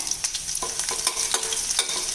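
Steady frying sizzle with a few crackling pops as small pieces of chopped dried chilli drop into hot oil, with light stirring scrapes.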